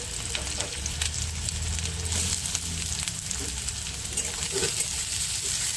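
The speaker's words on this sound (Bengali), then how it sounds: "পেঁয়াজটাকে এখন একটু লাল লাল করে আমি ভেজে নেব।" Chopped onion fries in hot oil in a wok, giving a steady, close crackling sizzle with small pops throughout and no talking.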